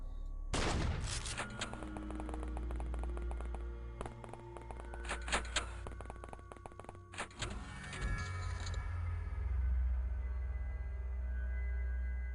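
Gunfire rings out in the video game X-Com Files: a loud opening shot followed by bursts of rapid shots and sharp single reports over a low rumble, then fading out.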